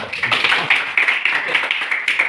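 Hands clapping together in a classroom, a dense run of quick, sharp claps sounding close and fairly loud for a couple of seconds, with voices faintly mixed in.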